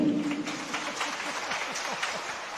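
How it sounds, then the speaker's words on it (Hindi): An audience at a Jain religious discourse claps continuously, a fairly faint, even patter heard from a distance, with a speaking voice partly audible under it. "तालियां"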